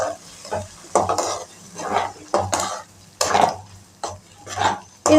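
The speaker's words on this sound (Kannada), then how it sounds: "ಇದು ಪಾಲಕ್ಕು ತುಂಬ ಚೆನ್ನಾಗಿ ಈ ಥರ ಮಿಕ್ಸ್ ಆಗಬೇಕು" Ground spinach for palak paneer is stirred in a frying pan, with a spoon scraping and tapping the pan in a steady rhythm of about a stroke per second over a soft sizzle, close by.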